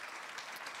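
A church congregation applauds in a brief, faint burst of steady, dense clapping.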